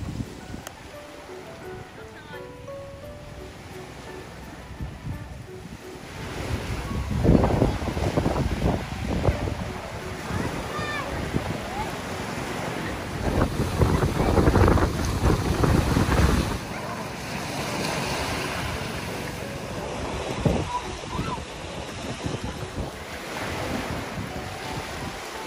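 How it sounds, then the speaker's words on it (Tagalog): Strong ocean waves at White Beach, Puerto Galera, rolling and crashing in repeated surges with heavy wind buffeting the microphone; the roar swells loudly near the shore. "sobrang lakas ng alon, unlike ng mga nakarang araw"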